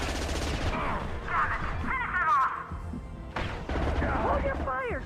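Gunfire and impacts during combat in Mass Effect 2, thumping shots and crashes mixed with shouting voices and strained vocal sounds, moderately loud throughout.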